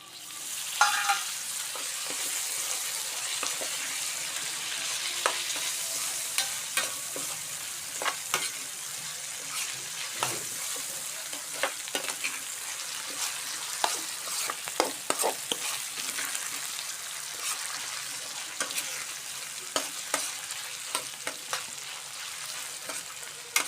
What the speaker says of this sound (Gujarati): ટમેટા નાખી દીધા છે મિક્સ કરી લીધું છે